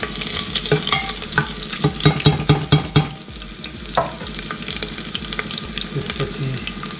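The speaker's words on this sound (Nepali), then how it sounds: "लसुन र अदुवालाई चाहिँ हामी एकैछिन भुट्छौँ।" Garlic and ginger fry in hot oil with a continuous sizzle, broken by a quick run of sharp scraping and clattering stirs near the start. The pan then settles back to a steady crackle.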